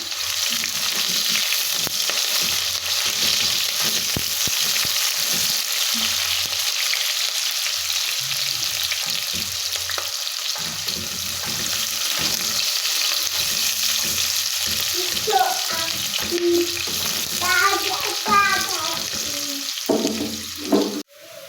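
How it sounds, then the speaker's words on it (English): Onions fry in a pan for a carrot and butter bean dish, a loud, steady sizzle running throughout with intermittent scraping and stirring strokes and a few clinks toward the end. "I'm going to be adding in my onions. Give it a stir."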